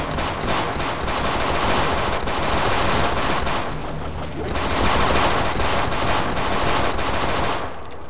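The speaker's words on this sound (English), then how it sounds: "that'll happen when you plug a bunch of bullets into a bunch of aliens" Rapid automatic gunfire pours into aliens in Half-Life: Blue Shift, played co-op in Sven Co-op, two long loud bursts of evenly spaced shots split by a brief pause, close and dominant with no talk.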